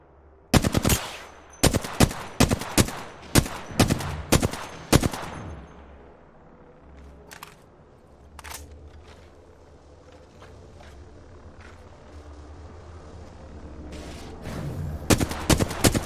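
Bursts of rapid automatic gunfire from a first-person shooter game, loud and close, several sharp volleys in quick succession, then a lull of low rumbling ambience before more shots return near the end.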